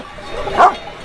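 A livestock guardian dog gives a single short bark near a flock of sheep, heard once at moderate distance over a low outdoor background.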